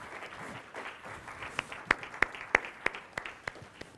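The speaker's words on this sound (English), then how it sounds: "Warm applause for Julie." A conference audience gives scattered applause for a guest speaker being welcomed onstage, a few sharp, distinct claps standing out over a faint, thin patter at low volume.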